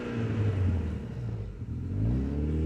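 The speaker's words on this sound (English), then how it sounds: "I'm gonna give it a little rev." A Mazda Miata drift car's engine revs up close, a steady low droning growl that swells and dips once before climbing again, with no talking over it.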